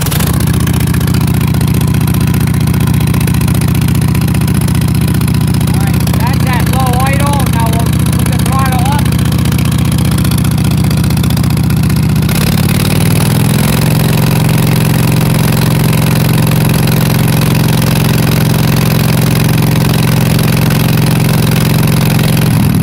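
A Vanguard small engine is started and settles into a loud, steady idle close by, its constant drone shifting in pitch partway through as it runs.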